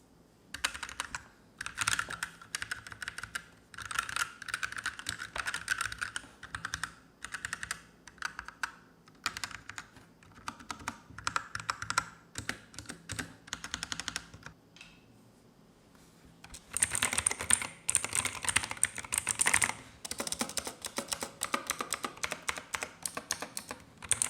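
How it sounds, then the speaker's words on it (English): Fingers type on an Ant Esports MK1200 Mini 60% mechanical keyboard with red and blue switches. Bursts of close, crisp clicking keystrokes continue for about twenty seconds with brief pauses, and nobody speaks. "for those curious souls who are wondering how this keyboard sounds in the red and the blue switches version"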